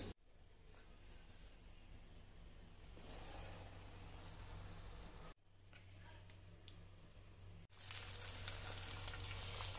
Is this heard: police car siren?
no